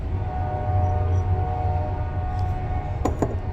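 A heavy low rumble of a train rolling past close by, steady and loud throughout, with a couple of brief higher squeals near the end.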